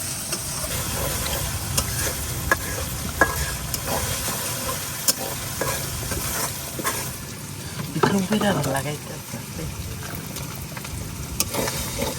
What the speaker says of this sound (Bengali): পেঁয়াজ আদা রসুনটা কিন্তু একটু ভালো করে বাইজে নিচ্ছি